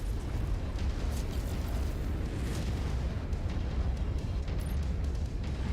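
A missile explosion in MechWarrior 5 that rolls into a sustained heavy rumble, loud and close, with scattered bursts and pops over the roar and no speech.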